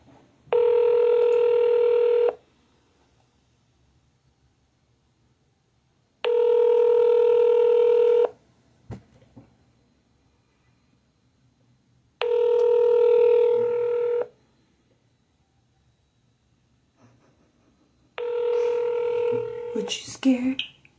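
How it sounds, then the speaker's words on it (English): Telephone ringback tones while an office call is being transferred: four long, steady electronic rings evenly spaced with silent gaps, clear and moderately loud, a faint rustle at the end. "Wait while I transfer your call."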